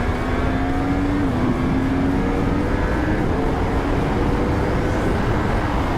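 A motorcycle engine revs steadily with the throttle opened only partway, a loud continuous drone with a slowly rising pitch and a strong wind roar over it throughout.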